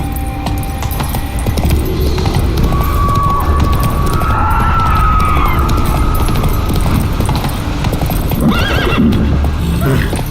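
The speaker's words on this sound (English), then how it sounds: "Run, Roach." A horse gallops in the Witcher 3 video game, its hooves clip-clopping fast and steady. Bright neighs and whinnies come through midway, all loud and close.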